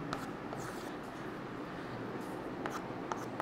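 Marker or chalk scratching across a classroom board during a chemistry lesson in a small closed room, a faint continuous scraping with a few sharper strokes over steady background noise.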